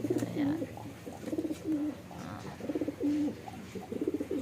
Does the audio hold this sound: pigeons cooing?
yes